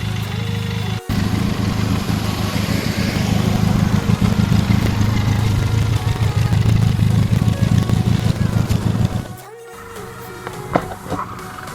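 Benelli TRK 502 X adventure motorcycle being ridden, its engine a loud, steady drone with wind noise, broken by a brief cut near the end before quieter rumbling resumes.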